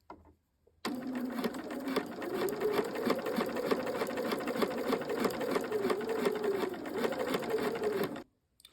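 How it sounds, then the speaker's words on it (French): Sewing machine topstitching down the middle of a pair of trousers with a lengthened stitch, a fast steady motor whir and needle chatter running alone for about seven seconds, then stopping. "vous allez réaliser une surpiqûre sur le milieu et vous allez allonger votre point sur 4"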